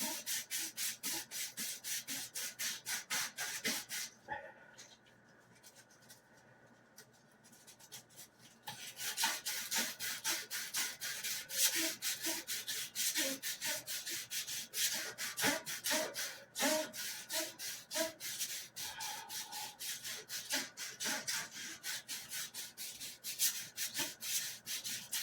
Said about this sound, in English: A little bit of sandpaper will take care of that